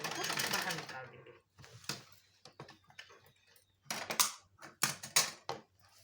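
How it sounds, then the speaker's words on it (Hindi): Sewing machine stitching a pocket onto palazzo pants, loud bursts of rapid mechanical clatter separated by pauses and handling clicks, with someone speaking. "इस निशान पे अब हम मशीन को इस तरह से घुमाएंगे और सिलाई को बाहर निकाल देंगे।"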